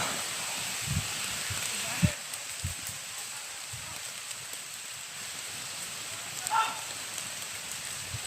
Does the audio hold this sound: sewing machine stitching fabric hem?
no